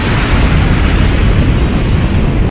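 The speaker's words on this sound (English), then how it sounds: "So that was a bomb." A bomb blast in the Neon Genesis Evangelion anime makes a loud, sustained rumbling roar that fills the clip and then cuts off abruptly near the end, with no voices.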